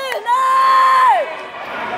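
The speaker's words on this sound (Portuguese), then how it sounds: "Blockout, a torcida eufórica." An excited crowd at a regional goalball match cheers near a sports hall, with one long sustained shout rising above the noise for about a second before settling back into a roar.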